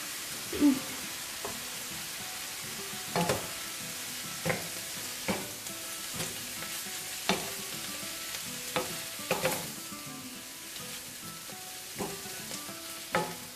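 Meat fries in a pan with garlic powder, dried parsley and red pepper for Lebanese kibbeh, a steady soft sizzle broken by occasional sharp clinks and scrapes of stirring, close and without talk.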